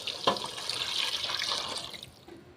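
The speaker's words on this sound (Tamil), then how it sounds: "இப்போ வந்து தண்ணி ஊற்றிக்கலாம்ப்பா." Water poured into a pot of eggplant kara kuzhambu (spicy tamarind curry) cooking, a steady splashing pour lasting about two seconds that tapers off, close and fairly quiet.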